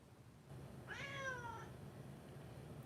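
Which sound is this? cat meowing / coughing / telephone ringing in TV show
cat meowing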